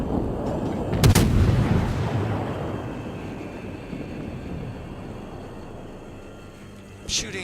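AP shell salvo fired from the guns of HMS Belfast in a naval battle game: a sharp, loud booming blast that rolls off into a long fading rumble, with a second smaller report near the end.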